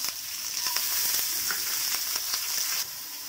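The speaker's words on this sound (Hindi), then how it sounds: "थोड़ा सा फ्राई कर लूंगी।" Onion, tomato and curry leaves sizzle steadily in a pan with cumin and mustard seeds for a sambar, a continuous close hiss with faint stirring ticks and no voices.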